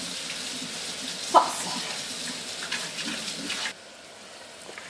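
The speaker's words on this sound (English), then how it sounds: "I'm going to give this a quick wash" Food is rinsed under a kitchen tap, a steady hiss of running water that stops abruptly near the end. A voice briefly speaks over it.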